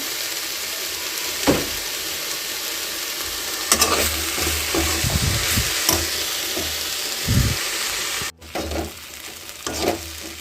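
Okra curry sizzles loudly and steadily in a hot pan. Several scraping stirs of a spatula break through the frying, and a brief knock comes near the end. No one speaks.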